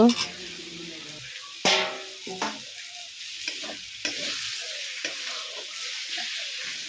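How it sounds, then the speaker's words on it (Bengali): A spice paste with tomato is stir-fried in oil for a spicy katla fish and potato curry. A low sizzle runs under scattered scrapes and knocks of a spatula, with an occasional quiet voice. "টমেটোটা দিয়ে তারপর আরও কিছু সময় কষিয়ে নেওয়া হবে"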